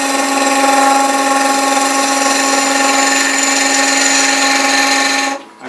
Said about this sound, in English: I'm going to use my 8mm beading and parting tool to waste some of this wood away.